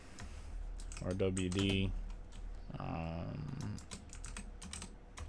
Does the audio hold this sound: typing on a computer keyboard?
yes